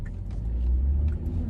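Car interior on the drive home: steady low engine and road rumble, muffled and constant, no voices.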